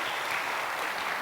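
A church congregation claps steadily during a worship service, a dense wash of applause that holds at the same level from start to finish with no voices.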